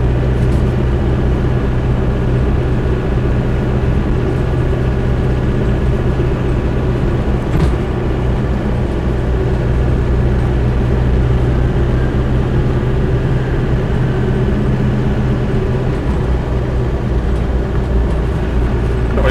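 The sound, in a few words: Land Rover Defender 90 200TDi driving in traffic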